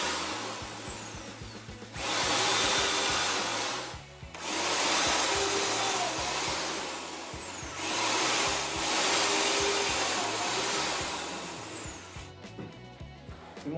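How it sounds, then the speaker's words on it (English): Power drill boring pilot holes into 2x4 boards for a work table, several loud whirring bursts of a few seconds each separated by short pauses, close by with no talking. "once all the pilot holes are drilled"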